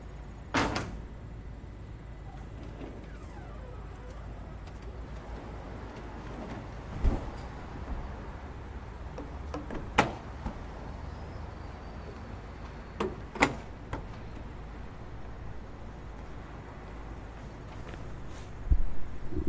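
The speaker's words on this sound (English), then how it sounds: "I'm going to go ahead and shut this door so you can see how easy it is" Door of an equipment storage box on a truck swung shut, giving a few sharp knocks and clicks spaced several seconds apart over a steady low background rumble, with a final louder thud at the end.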